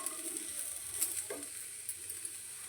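Crushed garlic dropped into hot oil in a pan, a faint, steady sizzle with light crackles, no voices.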